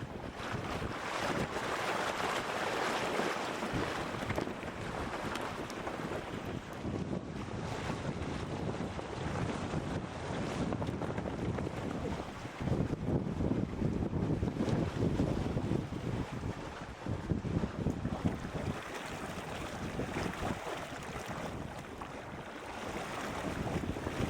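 A sailboat runs dead downwind, sails set on both sides, with steady wind noise buffeting the microphone over rushing water and waves, continuous and loud throughout.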